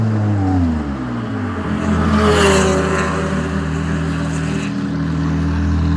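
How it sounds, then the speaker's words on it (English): A Ferrari 296 Challenge race car approaches down the pit lane, its engine drone growing louder with shifting harmonic tones, peaking as it nears and then settling into a steady idle rumble. "So the guys are all out in the pit lane, they're expecting the car, here it comes."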